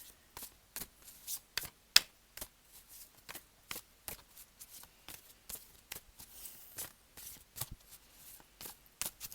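A deck of tarot cards is shuffled by hand in a steady run of crisp, close slaps and riffles, each sharp burst separated by short quiet gaps, with no talking.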